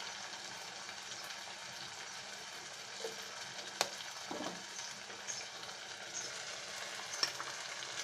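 Fried stinging catfish roe stirred into sautéed spices in a pan, a quiet continuous frying hiss with a couple of faint spoon knocks, no voices.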